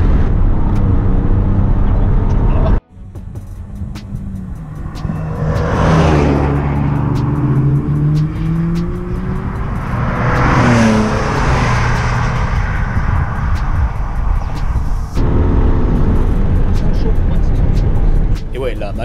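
A race car's engine roars on track during an overtake, rising and falling in revs and heard loudly from the cockpit, with a brief near-silent break early on.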